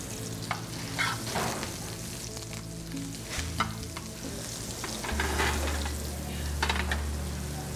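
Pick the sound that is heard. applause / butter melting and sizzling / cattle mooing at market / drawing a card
butter melting and sizzling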